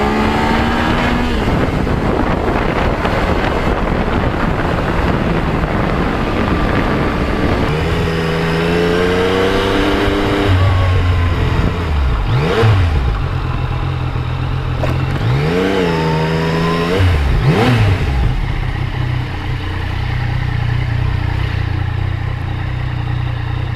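A motorcycle fitted with a Givi tank bag rides along a clean road, its engine rising and falling through repeated revs and gear changes over a steady rush of wind.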